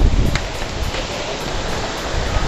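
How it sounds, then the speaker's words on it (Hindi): Heavy rain pours steadily during a rainy spell on a Nainital trip, a dense, constant hiss of falling water with low rumbling underneath, close and loud throughout. "काफ़ी तेज़ बारिश हो रही है"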